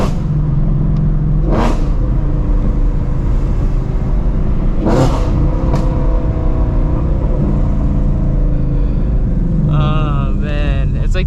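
A Shelby Mustang's engine drones loud and close during driving, with two sharp rising bursts and a crackling flutter of exhaust pops toward the end; no voices are heard.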